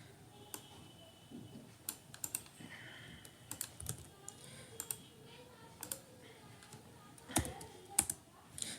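Hive commands typed on a computer keyboard, quiet irregular key clicks in short runs with a few harder taps, close and faint over a low background hum.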